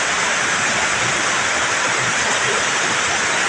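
Strong floodwater from heavy rain surges through a flooded workplace, making a loud, unbroken rushing roar that fills the whole stretch with no pauses or voices.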